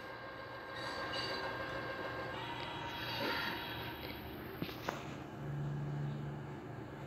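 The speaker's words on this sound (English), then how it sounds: "Oh no, is that a train derailment?" A train in a fan-made recreation of the Oxnard, California crash derails, a faint low rumble of rolling rail cars broken by a couple of sharp metallic knocks and a brief grinding squeal near the end.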